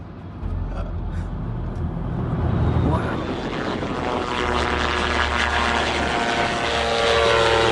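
A propeller-driven fixed-wing airplane drones overhead with a steady, fairly loud engine roar that swells slightly toward the end, and a voice can be heard faintly underneath.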